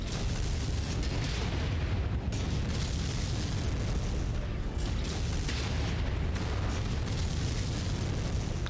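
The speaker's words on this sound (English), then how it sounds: "Incoming missile." Missile explosions in MechWarrior 5, a dense, continuous roar of booming blasts and rumbling impacts that stays loud and unbroken throughout.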